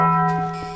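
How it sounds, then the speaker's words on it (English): A Taco Bell-style bong sound effect: one loud, sustained bell tone with many steady overtones, fading slightly over under a second. "Taco Bell sounds like this."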